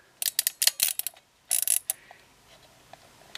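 A knob is pushed on a homebrew stereo camera loaded with diafilm, giving a close, sharp cluster of rapid mechanical clicks and ratcheting, a brief pause, then a second shorter burst fading into faint ticks.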